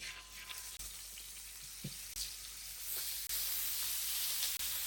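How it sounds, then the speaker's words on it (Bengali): Chicken wings with cumin frying in hot oil, a continuous bright hissing sizzle, fairly faint but steady, with a few brief clicks and no talking. "তারপর চিকেন উইংসগুলো দিয়ে দিচ্ছি"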